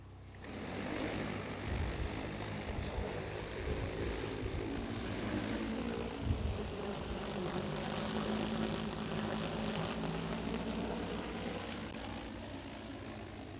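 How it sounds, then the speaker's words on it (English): An EAVision J100 agricultural spray drone spins up and lifts off, its rotors producing a loud, dense whirring roar that holds steady and slowly shifts in pitch as it flies, with no voices. "the drone took off autonomously"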